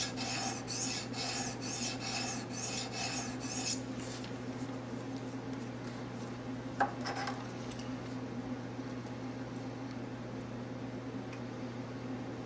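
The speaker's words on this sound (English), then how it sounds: "Trying to scrape off the deep scratches from the 400 grit." Steel knife blade rasping back and forth on a 400 grit sharpening stone in quick repeated strokes for several seconds, then fading into a steady background hum with only faint scraping.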